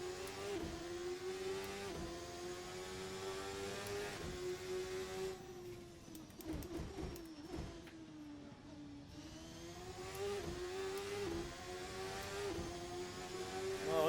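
A seven-gear Indy car engine in a racing video game screams at high revs, pitch climbing and dropping through upshifts and braking for corners, a steady loud whine with a brief dip near the middle.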